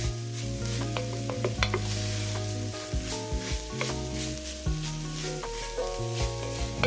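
Ground meat sizzling in a pot while being stirred: a steady, close frying hiss with soft scraping strokes, heard under background music.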